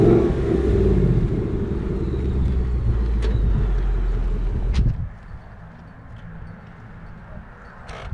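A 450 hp V8 Ford Mustang rumbles with a deep, loud low-end idle and revving for about five seconds, then drops to a quieter background hum.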